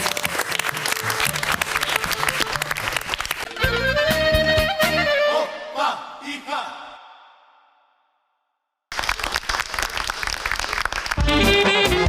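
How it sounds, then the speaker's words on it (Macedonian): Studio audience applauding on a TV show, a dense burst of clapping that gives way to music, fades to silence, then returns as clapping. "Навистина заслуживте голем аплауз."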